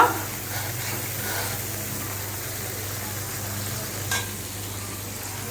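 Spice masala for chicken bhuna fries in a pan, a continuous close sizzle with soft stirring scrapes and a brief clink partway through.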